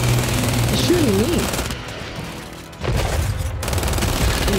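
Rapid automatic gunfire from the video game Gears 5 rattles loudly and almost continuously, dropping briefly midway before resuming, mixed with other game sounds.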